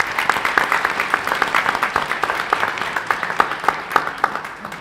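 A small audience at a school board meeting claps after the Pledge of Allegiance, giving a modest round of applause with scattered, distinct handclaps of moderate loudness and no talk over it.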